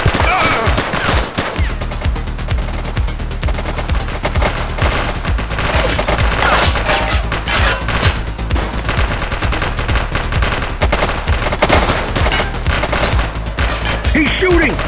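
Sustained gunfire in the police game The Precinct, rapid automatic shots rattling continuously and loudly over a steady low background drone, with brief voices mixed in.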